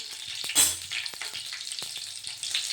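Tempering spices with a dried red chilli and green chillies crackle and sizzle in hot oil over a low flame for leftover idli upma, a close bright sizzle with a few sharp pops and stirring taps.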